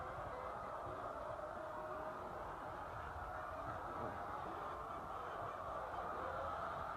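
Caged chickens cluck and squawk in a continuous, dense, moderately loud chorus with no talk.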